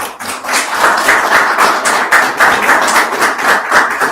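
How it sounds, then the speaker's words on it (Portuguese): A small group claps in a round of applause closing a professional building-manager training course session, steady overlapping hand claps with a slightly uneven rhythm, fairly close and loud throughout. "Salve de palmas, então."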